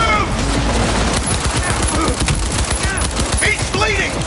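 Rapid bursts of gunfire in the video game Cyberpunk 2077 fill the stretch, loud and dense, layered over combat noise and scattered game voices.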